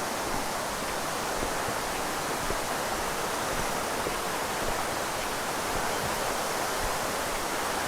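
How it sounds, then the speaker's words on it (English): A small creek that keeps a dam level flows freely, making a steady, even rushing wash of water that stays constant throughout with no other sounds. "that little creek that sort of keeps the dam level is flowing pretty freely now"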